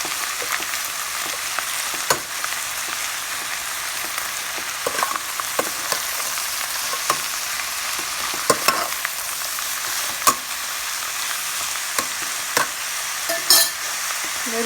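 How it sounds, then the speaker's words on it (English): Curry being stirred in a pan after salt and turmeric are added, with a steady sizzling fry under scattered scraping and clacking stirring sounds, close, with no talk. "We should mix it thoroughly. After adding salt and"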